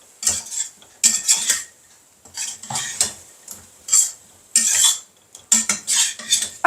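A utensil stirs potatoes coated in tomato sauce around a pan in bursts of scraping and clinking, with short pauses between strokes and a faint sizzle, close and fairly loud, no voices.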